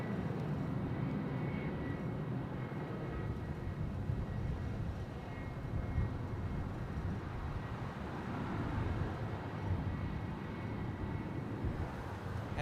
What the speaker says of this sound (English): taxiing straight in front of us is Jetstar Flight 954, bound for Cairns